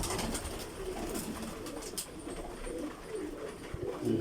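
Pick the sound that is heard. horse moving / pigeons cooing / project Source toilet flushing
pigeons cooing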